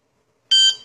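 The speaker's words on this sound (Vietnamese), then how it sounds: "Cái độ từ cái tiếng bíp bíp bíp nó là zero, nó không bị đánh gì hết." An electronic dog training collar gives a single sharp, high-pitched beep lasting about a third of a second, loud and close against silence.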